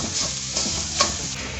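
A spatula stirs freshly grated coconut, one whole coconut's worth, sizzling in a hot pan, with steady scraping and frying crackle close by and no talking.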